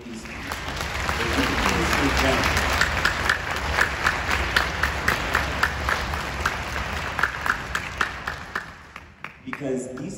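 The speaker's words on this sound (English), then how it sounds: "I'd love to give the parents and the teachers a big round of applause right now" An audience applauds parents and teachers in a long, dense wave of clapping with cheers, swelling and then fading near the end while a voice speaks over it.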